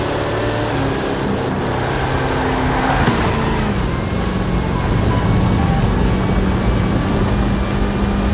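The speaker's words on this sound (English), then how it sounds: "540 cubic inch Chevrolet engine, 66 inch Terra tyres" A Forza Horizon 5 Hot Wheels car with a 540 cubic inch Chevrolet engine and 66-inch Terra tyres roars in a loud, sustained, close engine drone that barely changes pitch throughout.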